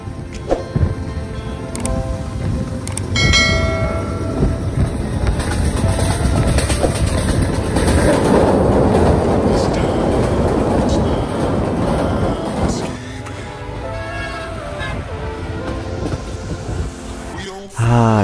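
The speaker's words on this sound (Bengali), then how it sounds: "বঙ্গবন্ধু যমুনা সেতু দিয়ে এভাবেই আমাদের দানবাকৃতির ট্রেনটি ঝনঝন করে ছুটে চলছে" A long passenger train crosses the Bangabandhu Jamuna Bridge over the wide Jamuna River, a loud steady rumble and rhythmic clatter of wheels heard from inside the carriage, with voices talking intermittently over it.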